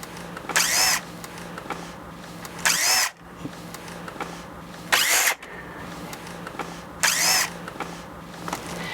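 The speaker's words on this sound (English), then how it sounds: "Using a T20 Torx bit, we're going to remove the 4 screws holding the selector in place." Power driver with a T20 Torx bit backing out the screws on a BMW iDrive selector: four separate short whirring bursts, evenly spaced about two seconds apart, close and clear over quiet background.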